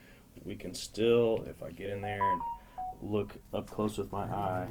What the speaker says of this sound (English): I think that's my phone